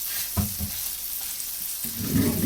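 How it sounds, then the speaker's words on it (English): Close-up sizzling of steak frying in butter in a hot pan, with crackling hiss and a few soft scrapes or bumps, steady and fairly quiet. "So I'm going to let it sizzle for a minute first and then flip it"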